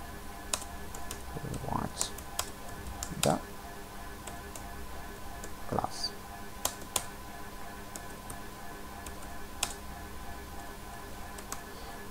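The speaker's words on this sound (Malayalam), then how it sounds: "ഒരു വേർഡ് ഇവിടെ ടൈപ്പ് ചെയ്ത് കൊടുക്കുന്നു" Sparse keystrokes on a computer keyboard, soft irregular clicks spread over several seconds beneath a steady low hum, with a few slightly louder taps standing out.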